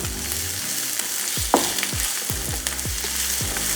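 Capsicum fries in a pan over a low flame, giving a steady close sizzle broken by a series of soft thumps and scrapes from stirring, with no voices.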